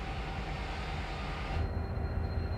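A steady low rumble of a moving train with broadband rolling noise, fairly faint and continuous, deepening slightly toward the end.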